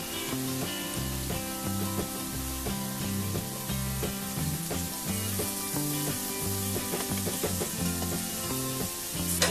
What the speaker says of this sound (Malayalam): ഗോൾഡൻ കളർ വരെ ഇത് ഫ്രൈ ചെയ്ത് എടുക്കേണ്ടത്